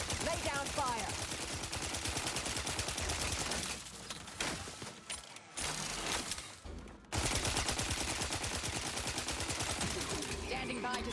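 Dense, loud gunfire from The Outer Worlds 2 on PS5, with rapid bursts and sustained automatic volleys running almost continuously, briefly thinning in the middle before resuming at full intensity.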